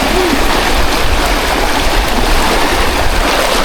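Steady rushing of river water flowing over rocks during a river crossing by a spring near a camping spot, a continuous broadband wash with no talk.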